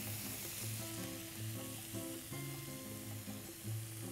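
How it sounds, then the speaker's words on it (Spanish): Bacon fries in a pan over steady heat, giving a constant close sizzle and crackle with occasional stirring sounds and no voices. "En esta misma sartén vamos a hacer nuestro tocino."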